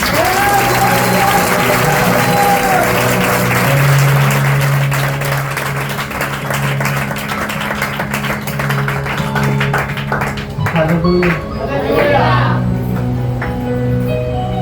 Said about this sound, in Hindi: क्या ताली बजा रहा हूं परमेश्वर के लिए